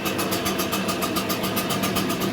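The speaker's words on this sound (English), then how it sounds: "Once this blower is started, you want to push that choke back down so that it stays running." A small gas leaf blower engine running steadily after starting, a loud, continuous buzzing drone with a fast pulsing beat, close.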